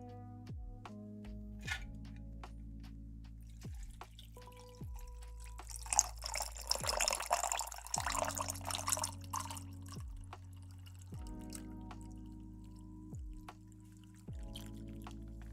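A drink poured from a can, fizzing and splashing for a few seconds, with soft drips before and after. Repeated descending electronic tones chime in the background.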